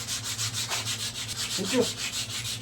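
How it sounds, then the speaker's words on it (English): Steady, rhythmic rubbing of sandpaper against a wooden gun stock, close up, with repeated back-and-forth strokes and no talking. "you'll see that spot getting smaller and smaller as you're sanding it down"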